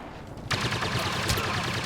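Gunfire in the Star Wars Battlefront multiplayer game on PS4 erupts suddenly after a quiet half second, a dense burst of rapid shots that continues to the end.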